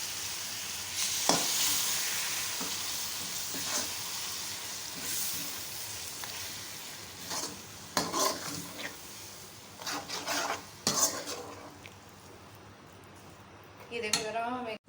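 Grated tomatoes, three large ones, hit a pan of oil with whole cumin for masala bhindi and sizzle steadily, with bursts of spoon stirring and scraping; a voice briefly surfaces near the end.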